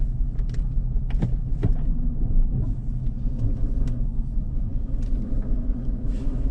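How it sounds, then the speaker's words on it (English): A Mercedes engine idling with one cylinder misfiring, giving a steady low rumble broken by irregular knocks and uneven pulses, close up with no talking. "One cylinder misfiring."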